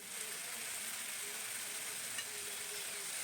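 Spices sauté with an egg curry in a pan, making a faint, steady sizzle with soft stirring scrapes underneath and no speech.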